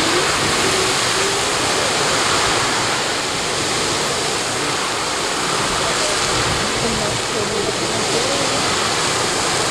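Mastiff Geyser erupting, a steady broadband roar of rushing, splashing water like a waterfall, loud and continuous throughout with a faint voice briefly audible.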